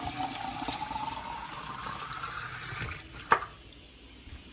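North Chicago tap water runs from a kitchen faucet into a sink, a soft steady trickle and splash that ends with a brief clunk as the flow is shut off.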